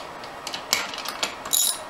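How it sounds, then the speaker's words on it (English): Loosening a 12 mm bolt on an AX5 transmission: a short burst of ratchet clicks with light metallic ticks, close and fairly quiet. "now we're going to pull this 12 millimeter out"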